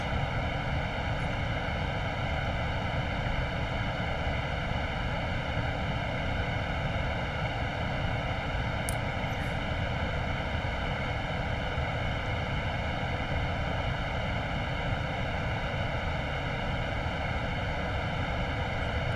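Steady, unbroken whine of an Embraer Phenom business jet's engines in a flight simulator game, a constant broadband drone with fixed tonal layers holding level throughout, heard alone without voices.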